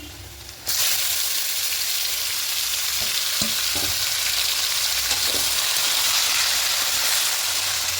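Chicken for biryani frying in a pan over a medium flame, bursting into a loud, continuous close sizzle as it hits the oil, with a few light stirring knocks under the steady crackle.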